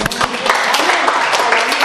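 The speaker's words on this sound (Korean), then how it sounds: "박수" A short burst of applause from a lecture audience, dense clapping at an even level for under two seconds, with no voices over it.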